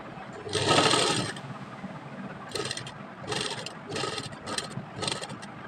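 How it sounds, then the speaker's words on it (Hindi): A sewing machine stitches a strip for a sleeve in short bursts, a close whirring hum starting and stopping several times with brief pauses between runs. "हमने पट्टी के दोनों तरफ सिलाई लगा ली है अच्छे से"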